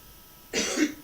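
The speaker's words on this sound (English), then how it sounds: "it's going to be one of those coughing mornings, I can tell" A single short fit of coughing, two or three rough bursts close by, breaks a quiet pause during a Yang style taiji class; no talking.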